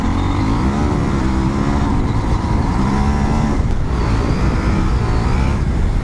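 KTM 790 Adventure R adventure motorcycle accelerating hard on loose ground, a loud, close, continuous engine roar with rising revs and a brief throttle dip midway before climbing again, no voices.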